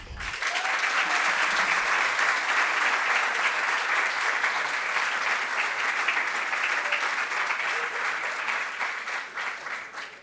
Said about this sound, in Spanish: recibamos con un fuerte aplauso a Susana Frankel